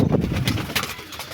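Pigeons coo briefly close by, a few soft low throaty calls with rustling in a pigeon loft.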